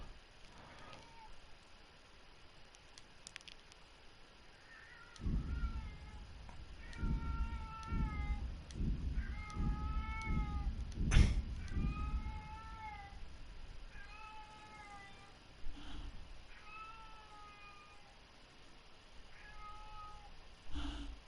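A house cat named Laurel meows insistently from the stairs, about a dozen short, close, rising calls in a loose rhythm, with a few soft thuds and quiet room noise between them.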